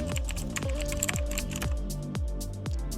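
A computer keyboard clacks as a password is typed, about six distinct keystrokes at a steady, unhurried pace, close and fairly quiet.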